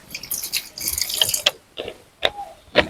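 Cassava pieces washed by hand in a bowl of water in a village kitchen, with splashing, dripping and sloshing in irregular bursts close by.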